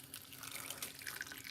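Hot water poured from a kettle onto banaba leaves, a steady soft liquid trickle and splash running throughout, quiet and close with no talking.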